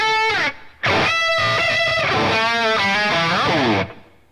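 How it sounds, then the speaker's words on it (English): A distorted electric guitar plays fast tremolo-picked notes in a loud, continuous solo line that bends and shifts in pitch, with a brief gap near the start. "She also uses tremolo picking in that example as well."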